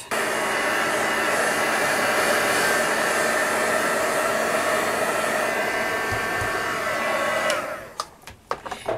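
A hair dryer blows steadily and loudly over damp tissue paper being made into fabric, a constant whooshing roar that cuts off near the end, followed by a few soft handling knocks.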